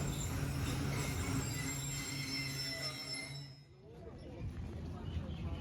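Pakistan Express pulling into Alipur Chatta station, wheels squealing in high sustained metallic tones as the train brakes, fading out midway, then a quieter rumble with some clinks.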